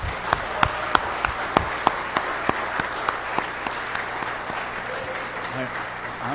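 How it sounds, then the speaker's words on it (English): Church congregation applauding military veterans at a July 4th celebration, broad sustained clapping with a few sharp, louder claps standing out in a steady rhythm near the front. "These men and ladies need a big round of applause."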